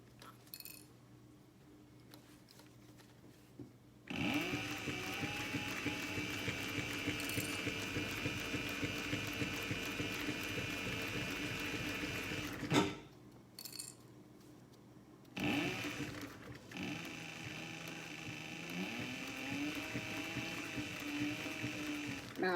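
Sewing machine stitching a cosmetic bag, a steady fast whirring run of about nine seconds, then a brief pause and a second long run, close and even in level.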